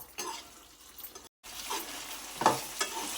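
Netupu talimpu, a fried chutney, sizzles softly in a pan while a spoon stirs it, with scraping strokes and a couple of sharper knocks; quiet and close, with a brief cut to silence partway.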